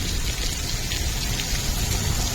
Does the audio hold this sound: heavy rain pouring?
yes